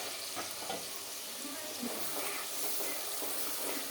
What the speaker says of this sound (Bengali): মশলাটা ভালো করে একটু কষিয়ে নেব 2-1 মিনিটের মতন।